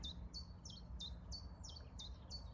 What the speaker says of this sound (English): Willow warbler across the far side.